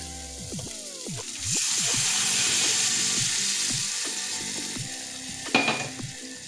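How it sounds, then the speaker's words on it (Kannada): Onions sizzle in a pan as boiled mixed lentils go in for a lentil stir-fry, the frying hiss swelling midway under background music, with a brief utensil clank near the end. "ಚೆನ್ನಾಗಿ ಫ್ರೈ ಮಾಡ್ಲತ್ತೀನಿ ನೋಡ್ರಿ"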